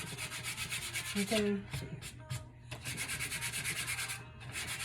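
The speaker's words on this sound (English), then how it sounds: "I'm just gonna lightly sand." Sandpaper lightly sands painted wood in quick, soft rubbing strokes, close and fairly quiet, continuing steadily with a brief pause and a few spoken words in the middle.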